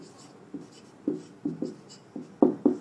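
Handwriting during an English grammar lesson, heard as a series of short, soft strokes and taps on a writing surface in an irregular rhythm, close and fairly quiet, with no speech.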